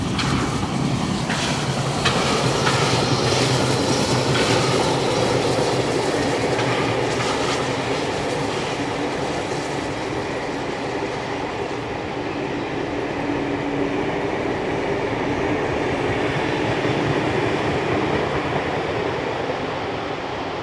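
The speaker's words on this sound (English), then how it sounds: "we see 3642 heading its way back to Sydney with the Thirlmere Flyer" Heritage steam locomotive 3642 hauls the Thirlmere Flyer train bound for Sydney, a loud, steady rumble of running gear and carriages with clickety-clack wheel rhythm that holds close and continuous for about twenty seconds, with no voices.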